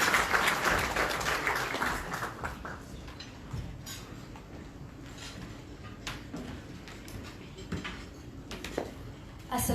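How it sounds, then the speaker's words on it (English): Applause from an audience at the Islamic Relief South Africa fifteenth-anniversary celebration in Johannesburg, honouring young future leaders. It is loud at first, then thins and fades within a few seconds into quieter room noise with scattered knocks. "I think we can give them another round of applause as they lead our story."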